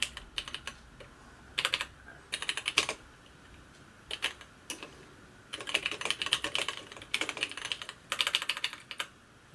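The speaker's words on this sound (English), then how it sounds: "now if I type something here" Bursts of rapid clicking keystrokes on a TRS-80 Model 100 keyboard, close and crisp, coming in several uneven runs separated by short pauses, with no voices.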